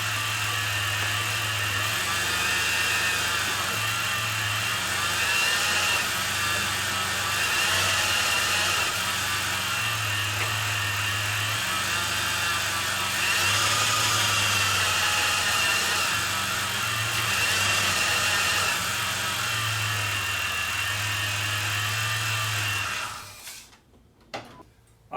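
Chrysler Town and Country minivan engine running steadily at idle while the transmission is shifted through the gears, a constant low drone with slight shifts in tone, ending abruptly.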